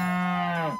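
A single long cow moo from South Park: The Stick of Truth, loud and close, a steady low bellow lasting nearly a second before dropping off abruptly.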